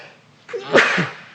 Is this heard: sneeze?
yes